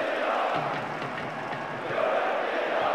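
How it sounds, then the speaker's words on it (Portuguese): Stadium crowd in the football video game PES 2010 roars continuously with a dense, steady chanting wash at moderate loudness, swelling slightly toward the end, with no talk over it. "Paulo Vinícius Coelho, escuta só esta torcida. Eles vão apoiar o time o tempo todo, hein?"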